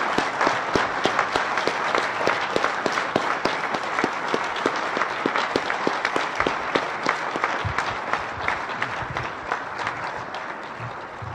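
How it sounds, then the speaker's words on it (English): An audience claps after an evening lecture on nonviolence by Dr. Arun Gandhi and three respondents, a full, dense round of applause that holds steady for about eleven seconds and eases slightly toward the end. "Thank you for the applause"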